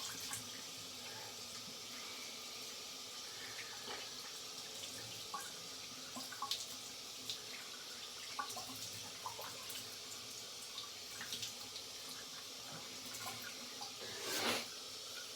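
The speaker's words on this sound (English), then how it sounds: "Just gonna rinse." Steady running water from a tap rinses a straight razor at a sink during a frameback straight razor shave, a continuous close splashing flow with a few brief drips and a swell near the end.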